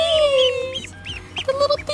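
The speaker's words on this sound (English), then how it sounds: "Look at the duckies." Baby ducklings, a black-and-white crested one among them, give high, thin peeps in short bursts, close by, with a few fuller calls near the end and a low background murmur.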